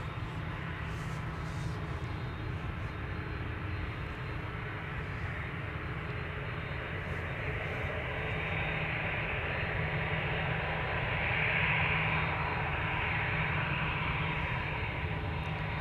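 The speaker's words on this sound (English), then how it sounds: "Shamrock flight 603 to Dublin, Ireland, lining up" Shamrock Airbus airliner lining up on a runway at Amsterdam Schiphol, heard as a distant, steady broadband jet engine roar that swells slightly toward the end, with no voices.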